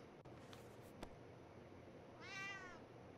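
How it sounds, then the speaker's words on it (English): A cat meows in the video game 60 Seconds! Reatomized, a single short wavering meow near the end, heard over a quiet hissy background with a couple of faint clicks. "It's a cat."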